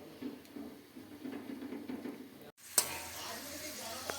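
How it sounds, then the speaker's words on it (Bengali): Potato pieces fry in hot oil in a home kitchen, prepared ahead for a mutton biryani. The close, steady sizzle drops out briefly midway, then returns louder with a small utensil knock. "আলু ভাজা হচ্ছে রাতে বিরিয়ানি হবে"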